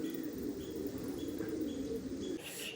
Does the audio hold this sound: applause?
no